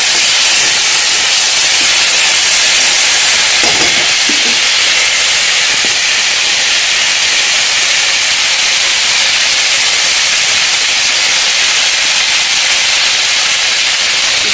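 Vegetables fry with turmeric, salt and green chillies in a pan in a Bengali home kitchen, giving a loud, steady, unbroken sizzling hiss that holds throughout with no voices.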